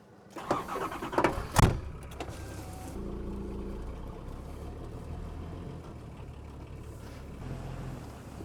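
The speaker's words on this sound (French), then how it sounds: "on va démarrer le Patrol et on va essayer de le monter" A Nissan Patrol Y60's engine cranks and catches with a few loud bursts, then settles into a steady low idle and rumble as the vehicle creeps forward onto a trailer, close by with no talk.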